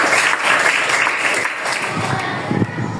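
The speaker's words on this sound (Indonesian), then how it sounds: "Tepuk tangan buat kita semua." Classmates in a teacher-training lesson on zakat clap together in a steady, dense burst of applause that lasts the full few seconds, with a little voice mixed in.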